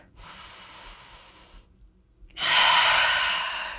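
Two long, deep breaths during a balance workout, a steady breathy inhale followed after a short pause by a louder, rushing exhale, close and alone.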